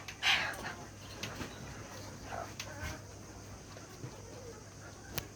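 A sick hen that cannot stand and keeps falling over gives a brief, faint cluck near the start, followed by scattered soft rustles over a quiet background.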